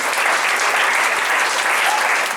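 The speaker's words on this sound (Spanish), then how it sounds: "Denle palmas a Rey de Reyes" A church congregation breaks into sustained, dense applause, many hands clapping at once in a loud, even wash that continues without pause.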